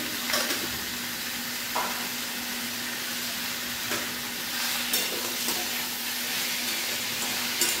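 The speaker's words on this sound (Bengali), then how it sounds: "নুন চিনি আর হলুদটাকে ভালো করে আমটাকে ভাজা ভাজা করলাম" Mango pieces fry in a pan with salt, sugar and turmeric, giving a steady close sizzle with occasional stirring scrapes and no talk.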